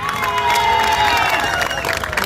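Crowd at a fair cheering and clapping for a young singer named Khushi, a loud wash of shouts and applause with high whistling or shrill voices over it, sustained and close.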